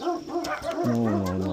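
A dog gives a few short, close yips and barks that slide into a drawn-out whining bark, loud and near, with no other sound competing.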